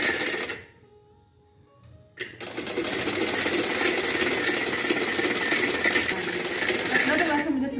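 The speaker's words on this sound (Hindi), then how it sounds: "अब मैं खिड़की भर के फिर मशीन चलाऊंगी। अब मैं सिलाई लगाने लगी हूँ।" A sewing machine stitches a sweater, starting after a brief near-silent pause and then running in a steady, loud, rapid mechanical chatter that continues to the end.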